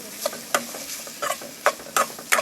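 Grated coconut stirred and sautéed in a pan while making kozhukattai, a series of distinct scraping spoon strokes with light sizzle, close and fairly loud, with no voices.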